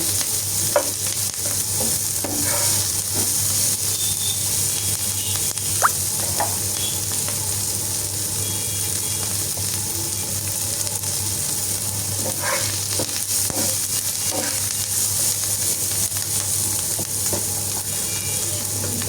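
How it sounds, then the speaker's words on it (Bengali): Onions frying lightly in a pan for a Malabar spinach dish, a constant close sizzle with occasional stirring scrapes and taps, steady in level throughout and with no voices. "হালকা ভাজবো যাতে করে একটু শুধু নরম হয়ে যায়"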